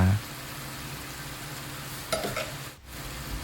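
Pork stir-fried in a pan with red curry paste, pickled bamboo shoots, oyster sauce, soy sauce, sugar and fish sauce: a soft steady sizzle with one brief scrape of a utensil.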